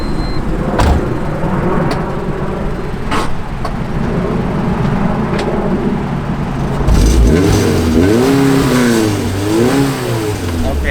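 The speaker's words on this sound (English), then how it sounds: "he's like revving it like to the max, damn near burning my clutch" A manual-transmission car's engine revs hard and repeatedly, climbing and falling in loud surges, with a rougher burst midway as the driver pushes it near the limit.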